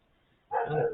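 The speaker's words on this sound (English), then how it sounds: "If you hear that dog in the background," A dog barks in the background, one short burst of barking starting halfway through and carrying on loud to the end after near silence.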